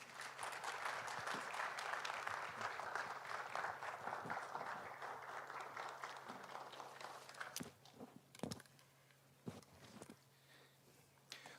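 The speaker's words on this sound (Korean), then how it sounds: "우리 선교사님 나오실 때 큰 박수로 환영하겠습니다." A church congregation applauds loudly in a sustained burst to welcome a missionary to the front, the clapping thinning into a few scattered claps and footsteps near the end.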